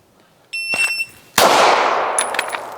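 A pistol shot timer sounds one sharp, high electronic beep, followed a moment later by a loud gunshot from a fast pistol draw, its echo trailing off, with no talking.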